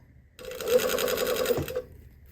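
A sewing machine stitches a baby hem on a bias-cut skirt in one short, steady run of rapid, close-up stitching lasting about a second and a half, then stops.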